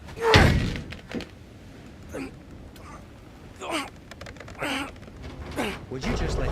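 In God of War Ragnarok, a character forces open a frozen door. A heavy thud lands first, then strained grunts and gasps come through amid character voices.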